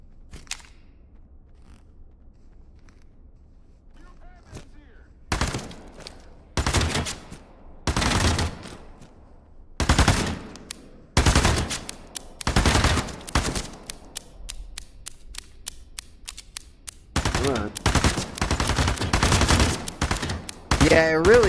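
Bursts of automatic gunfire in the VR shooter Into The Radius 2, loud close rapid volleys separated by short pauses, with denser continuous firing near the end and a voice heard briefly.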